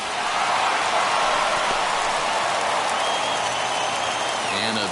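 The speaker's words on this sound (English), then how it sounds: "listen to this crowd now. They are really into this." A baseball video game crowd roars with steady broadband cheering throughout, loud and continuous like a rally in the stands, with no clear speech over it.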